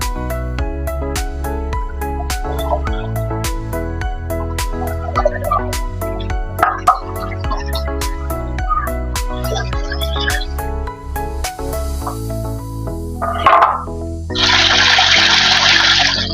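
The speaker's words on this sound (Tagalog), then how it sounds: "Lagyan ko ng tubig." Water pouring and splashing into a cooking pot near the end, following a stretch of steady background music with sharp clicks.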